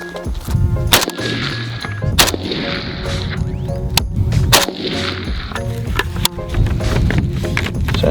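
AK-47 rifle shots fired at a target, sharp loud cracks spaced unevenly over several seconds, each ringing out with metallic clanging echoes over a constant background rumble.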